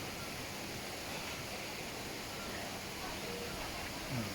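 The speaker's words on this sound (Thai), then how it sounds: "มีเสียงลำธารน้ำตกจากวัดแม่กำปองนะครับ ได้จากน้ำตกแม่กำปอง" Steady rushing water from a stream and waterfall at Mae Kampong in Chiang Mai, a continuous broadband wash that stays at an even level throughout without pause.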